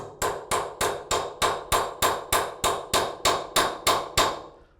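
Repeated hammer blows drive an 8mm quarter-drive socket extractor, hot and smoking from heating, onto a stuck bolt: about fourteen sharp, evenly spaced metallic strikes, close and loud, with no talk.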